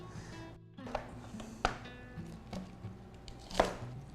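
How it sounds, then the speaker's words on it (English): A knife chopping onion on a board for cauliflower soup: four or five sharp, separate knocks at an uneven pace, close by, with quiet room tone between them. "I'm just going to start with some onion. Chop some onion."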